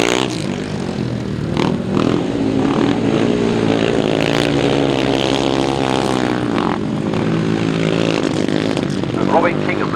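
500cc sidecar motorcycles race on a grass track with engines revving close by, rising and falling as they power round a turn, and a commentator talks over the noise throughout.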